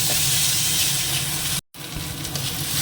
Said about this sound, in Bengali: রসুন বাটা এবার দেখতে ভাজা করে নিই তাহলে কাঁচা রসুনের গন্ধটা চলে যাবে